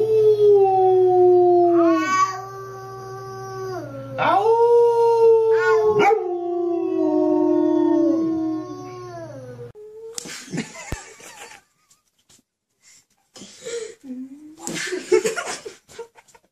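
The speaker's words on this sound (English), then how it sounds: "Claire, let's make Dantzler howl." A dog howls in long, wavering rising and falling notes, loud and close, followed by scattered laughter and chatter.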